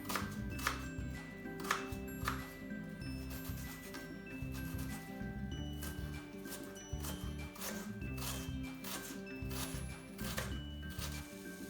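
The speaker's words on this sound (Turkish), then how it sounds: "İnce ince küp küp doğruyorum." Rapid knife chops on a cutting board, quick irregular taps continuing throughout as an onion is finely diced into small cubes, close and moderately soft.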